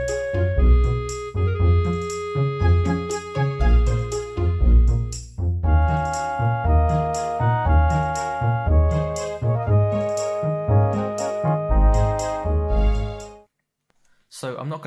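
A bright, bouncy instrumental tune with plucked melody and steady bass, an original theme from Zelda: Wind Waker, plays for most of the stretch, then cuts off briefly near the end.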